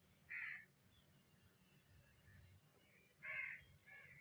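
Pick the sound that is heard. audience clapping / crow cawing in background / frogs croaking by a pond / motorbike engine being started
crow cawing in background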